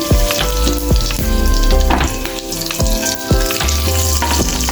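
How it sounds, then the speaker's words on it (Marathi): Curry leaves with cumin, fenugreek seeds and asafoetida hit hot oil for tempering, a loud steady sizzle and crackle with sharp pops and spits throughout, close up. "फोडणीसाठी कढीपत्त्याची पानं घालून घेऊया"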